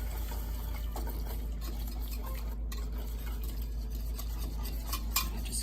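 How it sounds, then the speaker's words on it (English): A wire whisk stirring milk in a pot for macaroni and cheese, a steady soft swishing with light metallic ticks against the pot, close and continuous over a low hum. "I'm stirring it with a wire whisk"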